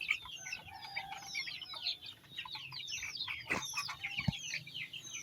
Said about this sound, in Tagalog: Dito yung mga sisiwan, dami yan dito ha. Dami yan dito sisiw.